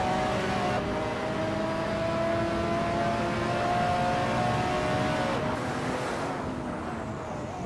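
Racing car engines in a racing video game, including a 1994 Nissan 300ZX IMSA, a steady loud engine drone with tonal whine shifting pitch as cars run continuously.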